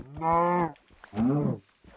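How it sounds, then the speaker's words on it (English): A cow in Minecraft Bedrock lets out two drawn-out moos in quick succession, clear and close, with short gaps of quiet around them. "we have another cow over here"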